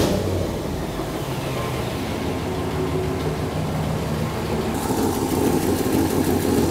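Classic Ford Mustang engine idling just after an oil change, a steady low rumble held at an even level throughout, with a slight rise in broadband noise near the end.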